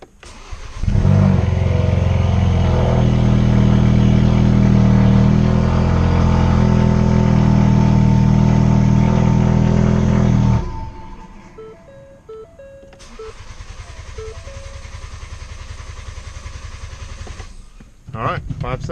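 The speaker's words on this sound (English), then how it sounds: "now we got to crank the car" A 2016 Ford Focus RS cranks and fires up, then its engine idles loudly and steadily for several seconds before cutting off abruptly; afterward, lighter mechanical clicking and a quieter hum follow, and a voice speaks near the end.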